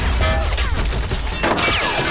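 Weapon fire in the Men of War war video game, dense loud shots and crashing impacts layered over continuous battle noise, with a sharper burst midway.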